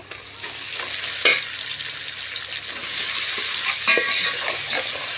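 Sliced onions fry in oil in a home kitchen pan, a continuous bright sizzle broken by a few scraping stirs, and the hiss grows louder partway through.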